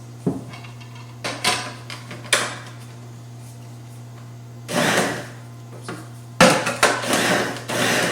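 Cold butter pulsed into pie crust dough in a food processor: several short bursts of whirring and clattering, some brief and some longer, separated by a steady low electrical hum.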